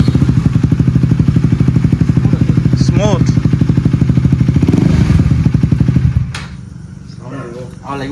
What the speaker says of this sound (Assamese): তো উইদাউট এক্সজষ্ট এবাৰ শুনি চাওক,